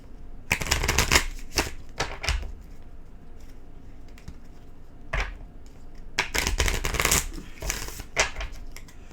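A deck of oracle cards is shuffled close by in repeated riffling bursts separated by short pauses, with soft handling noises between them and no talking.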